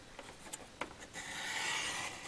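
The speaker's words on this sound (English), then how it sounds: "And then I'm going to slide over to 3 inches on the trimmer." A paper trimmer blade slides through cardstock for a pop-up slider card in a short, quiet scraping rasp. A few faint clicks come first, then a smooth, brief cutting swish.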